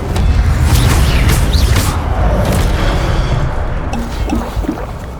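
An Incendio fire spell cast in Hogwarts Legacy lands as a loud, rumbling whoosh and crackle, with heavy low-end booms that slowly fade across a few seconds.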